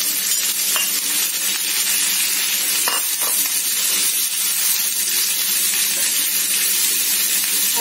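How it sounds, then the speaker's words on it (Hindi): Onions frying and browning in a pan for a poppyseed vegetable dish, a constant bright sizzle with occasional stirring scrapes, close and steady throughout. "अब अनियन को हम इसमें अच्छे से ब्राउन करेंगे"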